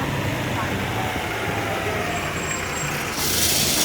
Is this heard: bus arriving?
yes